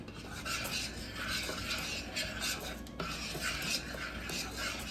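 A spoon stirs cocoa and melting butter in a pot, a soft, continuous scraping and swishing with rhythmic strokes, faint and close, with no voices over it.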